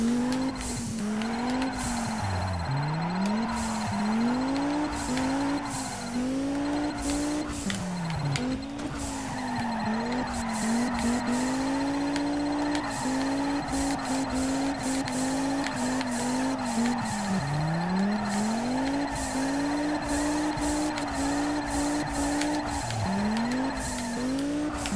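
Race car engine in the video game Juiced 2, revving steadily with repeated gear-shift rises and drops, with tire squeal and skidding throughout, loud and continuous.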